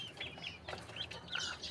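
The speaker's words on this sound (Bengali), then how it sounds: "এই যে টিটি বাচ্চা মুরগিগুলো দেখো কত সুন্দর করে খাবার খাচ্ছে" Desi chicks and hens on a rooftop cluck and peep in short, overlapping calls while pecking at feed, a busy close flock with no talking.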